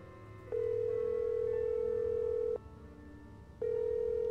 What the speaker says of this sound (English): It just keeps ringing.